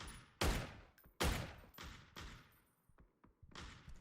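Gunfire in a PUBG match plays out as several sharp, loud reports spaced irregularly, each with a short decaying tail, followed by quieter distant pops and thuds.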